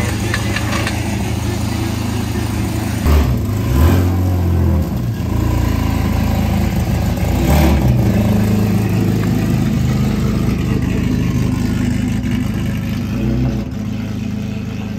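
A BMW E46 car with a 9-inch differential setup idles nearby with a steady, loud engine rumble, and brief throttle blips near the middle. Voices talk over the engine noise.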